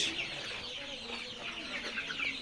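Layer chickens at a poultry seller's stall keep up a dense, continuous clucking chorus from many birds, steady and fairly close throughout.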